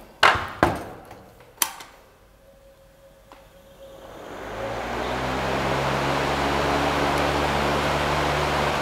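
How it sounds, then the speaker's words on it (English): A DIY cordless fan powered by Makita batteries is switched on after a few sharp clicks and knocks, then spins up into a steady, loud airy whir with a low motor hum, running alone. "I get good use out of this DIY cordless fan."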